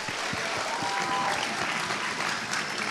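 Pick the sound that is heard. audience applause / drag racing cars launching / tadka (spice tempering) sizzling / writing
audience applause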